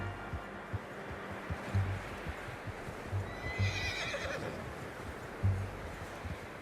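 A horse whinnies midway through, over steady, plodding hoof clops and a low ambient rumble, in the video game Red Dead Redemption 2.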